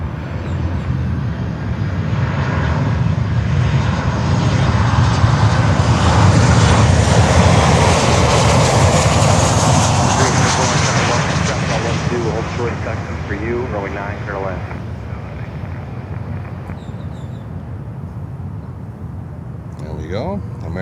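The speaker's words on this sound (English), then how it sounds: "American Airlines 737-800 from Chicago" An American Airlines Boeing 737-800 landing at Miami, its jet roar building to a loud peak and fading into a lingering rumble, with people talking and radio chatter over the noise.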